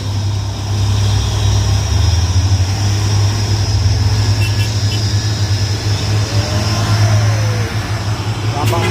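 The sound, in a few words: Fortuner and truck engines revving while climbing a hill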